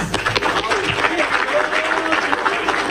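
A crowd at a political campaign launch claps steadily in a dense burst of applause, with some voices mixed in underneath.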